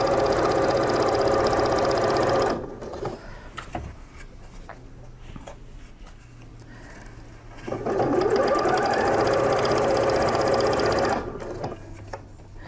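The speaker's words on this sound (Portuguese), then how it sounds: "para fazer a minha costura." A domestic sewing machine stitching bias binding onto a patchwork piece runs in two steady, loud whirring bursts separated by a quieter pause with faint handling noises, no voices present.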